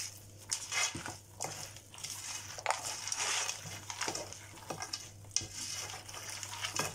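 Frozen chicken is stirred in a frying pan with onion for an Egyptian chicken torli dish. A utensil scrapes and knocks against the pan in irregular strokes over a steady sizzle, close and fairly quiet, with no talking.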